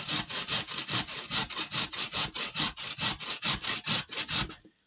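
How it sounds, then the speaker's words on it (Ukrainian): Potatoes rubbed on a medium grater make a steady run of about fifteen rhythmic rasping strokes, close and moderately loud, with no talking, before the sound stops abruptly. "І беремо сюди, тремо на середню тертушку."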